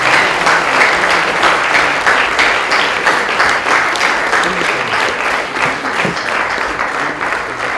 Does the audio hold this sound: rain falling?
no